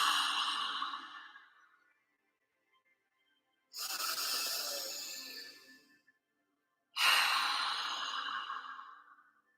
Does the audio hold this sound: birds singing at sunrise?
no